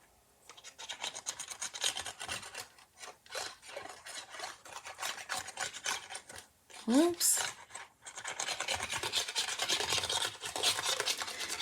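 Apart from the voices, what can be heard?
rubbing over the ridges of an embossed paper card layer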